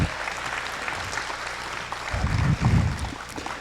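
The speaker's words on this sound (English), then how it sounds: "give all the people that work putting this together a big round of applause" A crowd at a regional cattle show in West Fargo, North Dakota, applauds steadily as a dense wash of many hands clapping, swelling louder toward the end, heard in a large, reverberant arena.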